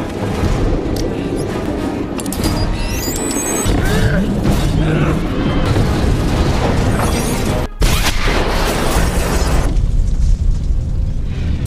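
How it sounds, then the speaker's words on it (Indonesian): A loud, sustained rumbling bomb explosion in an action film, with dense roaring noise, a brief cut partway through, then continued heavy booming. "di mana Johnson meledak bersama dengan bom yang dibuatnya sendiri"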